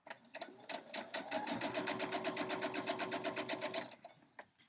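A sewing machine chain piecing quilt block fabric runs in a steady fast stitching burst of about three seconds, with a few short starts before and a brief stop and tap after, close and clear.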